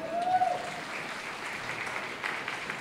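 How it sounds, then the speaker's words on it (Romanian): Guests applauding during the couple's wedding dance in a hotel restaurant, a sustained, moderately loud ripple of many hands with a brief tonal note early on. "Încă o dată aplauze maxime!"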